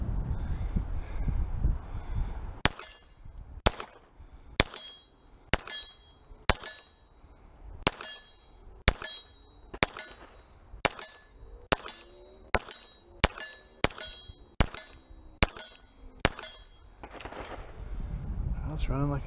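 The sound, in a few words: gunshots from Cajun Gun Works CZ P-01 pistol at range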